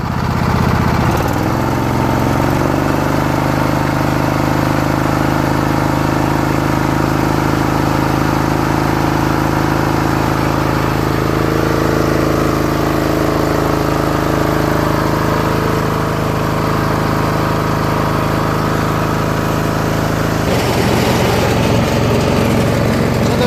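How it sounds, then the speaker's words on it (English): Husqvarna 2448T riding lawn tractor with a 24 HP Briggs Intek engine idling, a steady close loud drone with a brief rev near the start and a change in tone toward the end, no talk. "Runs well in idle too."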